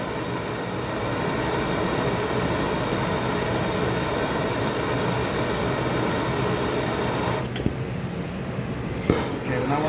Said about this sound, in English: I'm also putting the nozzle a little closer because the hottest part of the flame is that tip